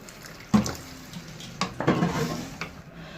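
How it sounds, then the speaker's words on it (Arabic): Water poured into a pot of chicken pieces for chicken and rice, a few short splashing bursts with some metallic pot clatter, close and fairly quiet. "نديروا الماء الكافي باش يطيب الدجاج."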